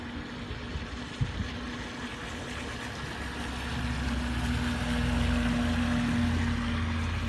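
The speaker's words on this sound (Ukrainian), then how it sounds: "Я пливу на круїз контролі в повну швидкість." A CAMRAD 800 fishing bait boat with a Falcon 5010 motor runs at full speed on cruise control, giving a steady whining electric drone over water that swells slightly louder partway through, with no talking.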